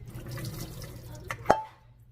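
Water splashes and drips as cooked ackee is poured through a strainer, a low sloshing followed by a sharp plop and a few trailing drips, close and moderately loud with no talking.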